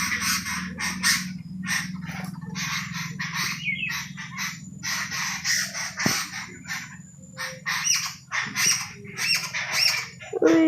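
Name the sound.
many birds chirping in a tree in the morning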